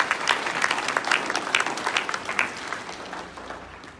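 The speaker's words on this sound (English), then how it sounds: "So I'd like you all to give a round of applause to Cash." An audience at a city council special meeting applauds, a dense patter of many hands clapping at moderate distance that gradually thins and fades out.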